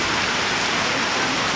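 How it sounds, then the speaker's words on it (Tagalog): Heavy rain pours down in a dense, unbroken roar by a boarding house where a motorbike is parked, steady and loud throughout. "lakas talaga na ulan mga kabay"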